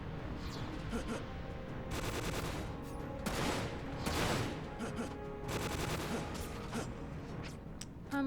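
Rapid bursts of gunfire from the video game Dirge of Cerberus, several dense volleys of shots repeating across the span, loud and close, with voices talking over parts of it.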